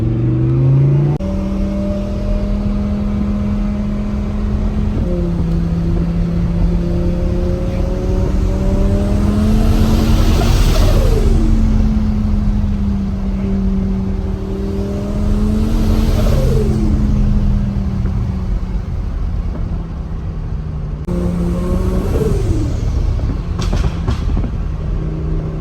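A twin turbo Audi R8 drives out on the road, its engine note rising and falling through several accelerations and gear changes, loud and close with a steady rumble underneath and no talking.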